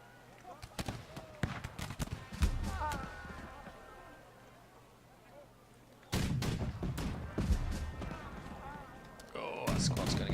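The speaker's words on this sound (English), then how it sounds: "that squad's going to get so shot up by the cannons" Cannons firing in the March to Glory battle strategy game, as squads and cavalry clash: scattered booming shots and sharp cracks, faint and somewhat distant, with louder bursts near the end and quiet voices in between.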